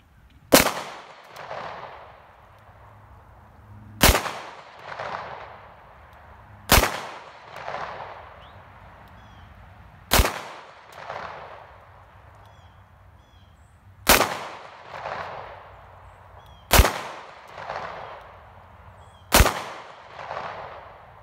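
Seven sharp 9mm pistol shots with 124 grain rounds fired at an outdoor range, spaced a few seconds apart, each a loud close crack trailing into a brief echo, with no talk.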